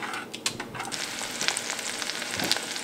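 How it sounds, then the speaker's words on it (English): Egg frying in a pan on a stovetop, a steady close sizzle with crackles and small pops throughout, no talking. "So now your egg is frying a little,"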